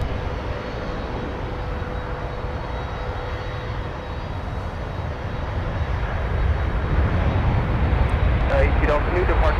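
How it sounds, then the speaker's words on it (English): A Delta Boeing 737 arrives at Minneapolis–Saint Paul from Salt Lake City. Its engine roar is steady and builds louder toward the end, with radio chatter from air traffic control running underneath. "here's Delta coming in from Salt Lake City, Utah with 737"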